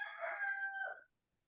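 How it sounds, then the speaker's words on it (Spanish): A rooster crows once, loud and close, a strained drawn-out call lasting about a second before cutting to near silence. "está el gallo ahí desesperado"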